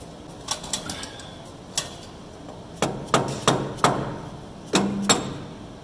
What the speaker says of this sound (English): We'll get a dead blow hammer here and we'll tap that back.